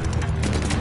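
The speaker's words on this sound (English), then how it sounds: "Teammate called a bombing run." Bombing-run explosions in a war video game form a dense, loud, continuous barrage of rumbling blasts and crackling bursts packed close together in under a second.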